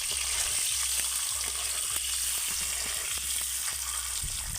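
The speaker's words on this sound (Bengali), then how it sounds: "এবার আমি ডিমগুলোকে ভালো করে একটু ভেজে নেব" Eggs fry lightly in hot oil with turmeric, giving a steady, close sizzle with soft crackles and occasional stirring or spatula scrapes throughout.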